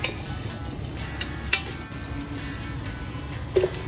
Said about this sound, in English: Saute it for a minute.